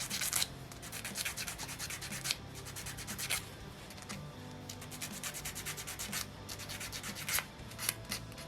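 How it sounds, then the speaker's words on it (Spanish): A part from a plastic Giganotosaurus 3D model kit is sanded in steady, close back-and-forth rasping strokes, continuing without pause. "Si lo ves conveniente, puedes lijar un poco."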